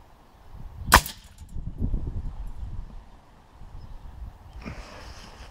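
One sharp, close shot from a Black OPS Sniper Tactical rifle at a 20-metre range, followed by quieter rustling handling noise and a softer later burst, with no talking.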